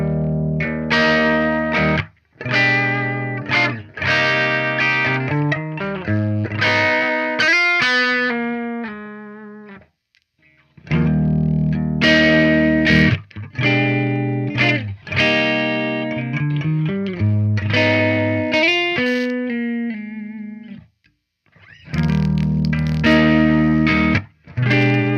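Epiphone Les Paul Standard 60s electric guitar played through light overdrive, bursts of strummed chords and picked phrases separated by short pauses, close and loud with a slightly gritty tone.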